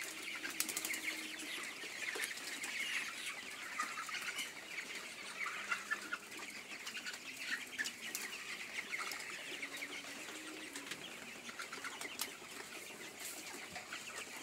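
Chickens in a poultry farm shed in winter, soft scattered clucking and rustling wing flaps from many birds, faint and steady throughout.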